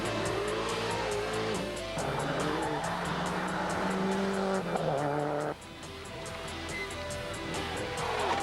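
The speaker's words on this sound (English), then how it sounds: "Richard's twin-turbo Porsche GT2 is a rocket" A twin-turbo Porsche GT2 rally car racing at Targa Tasmania, engine roaring and revving through gear changes with a tire squeal, loud and close, easing off partway through.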